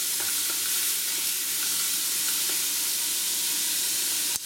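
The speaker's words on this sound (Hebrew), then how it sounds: "את הבצל והפלפלים שחתכתי קודם. ואני מערבב ומתגן במשך כ-3 דקות." Chopped onion and peppers sizzle steadily in a hot pan, a loud continuous hiss broken by faint scraping as they are stirred, with a sharp knock at the end.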